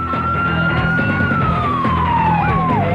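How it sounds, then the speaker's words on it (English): Fire engine sirens wail loudly over a steady rumble of traffic, approaching, their tone sliding slowly downward. "Fire engine sirens can be heard approaching, but Noel ain't waiting."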